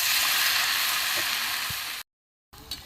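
Pumpkin chops sizzle in hot oil with a steady, loud crackle that cuts out abruptly, then resumes briefly with a small clink.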